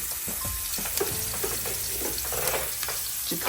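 Egg curry sizzles and fries steadily in a pan as it is stirred after salt and turmeric go in, with scraping stirring strokes over a continuous close crackle and no talking.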